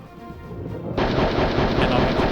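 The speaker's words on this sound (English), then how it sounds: "I can use my heavy machine gun shot to take out this guy." Heavy machine gun fire in the video game Hogs of War starts abruptly and carries on as a loud, dense burst of gunfire.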